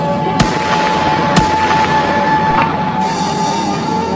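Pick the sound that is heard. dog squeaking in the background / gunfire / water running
gunfire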